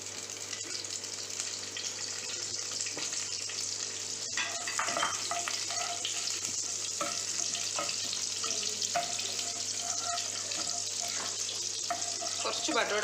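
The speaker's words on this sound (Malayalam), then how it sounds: "ഇതിലേക്ക് നമുക്ക് കുറച്ച് ബട്ടറും കൂടെ ചേർക്കാം." Butter sizzles steadily in a hot pan for a paneer and capsicum masala, while a utensil scrapes and stirs in irregular bursts that grow busier midway. No one speaks.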